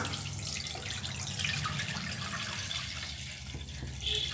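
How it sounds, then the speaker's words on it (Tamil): Tender coconut water poured into a pan on a stove while making coconut halwa, a steady soft liquid pour running continuously throughout. "அதில் நாம் இந்த இளநீ தண்ணியை ஊற்றிக்கலாம்"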